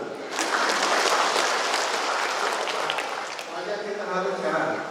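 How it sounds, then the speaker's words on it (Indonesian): A church congregation applauds at a New Year service, a dense wash of clapping sustained for several seconds, with voices murmuring and calling underneath as it tapers slightly. "Beri tepuk tangan."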